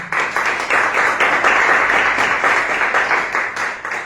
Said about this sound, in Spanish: Denle un aplauso a Dios, hermanos.